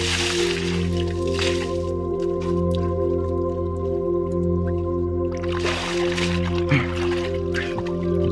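Cold water splashes and sloshes in two bursts over a steady low droning hum, with a brief dip into the water near the end.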